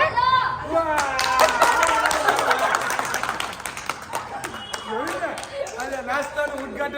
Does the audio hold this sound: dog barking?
no